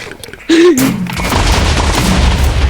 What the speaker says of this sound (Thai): ทำไมพี่ยิงน้องไม่เข้าเลย